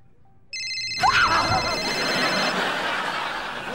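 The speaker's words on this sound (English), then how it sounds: "Oh, man, the ringing is back!" A phone ringtone goes off in a classroom, its bright electronic melody starting abruptly and ringing steadily throughout, with a burst of laughter and murmuring voices rising underneath soon after it begins.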